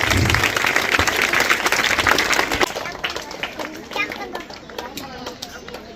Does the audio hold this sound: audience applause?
yes